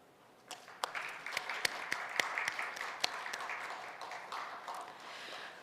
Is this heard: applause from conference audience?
yes